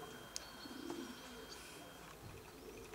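Pigeon at a racing pigeon loft, faint soft cooing and a few light chirps over quiet background hiss, with a couple of small sharp clicks.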